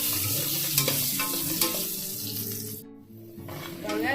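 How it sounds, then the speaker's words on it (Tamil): Four small cut potatoes fry in a pan for Kolkata-style aloo chicken biryani, a close, busy sizzle with scraping stirs that drops out briefly near the end and then resumes. "அதை போட்டு நம்ம நல்லா ஃப்ரை பண்ணிக்கலாம்."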